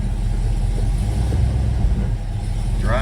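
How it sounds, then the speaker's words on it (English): V8 Ford Falcon with tires spinning while its transmission is tested; a steady low rumbling engine drone with a slight rise near the end, close and without talk. "Tires are spinning."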